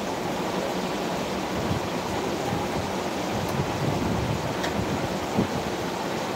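Steady afternoon rain falls in a thunderstorm, a dense, even hiss with a low rumble underneath that holds at a constant level throughout, with no voices.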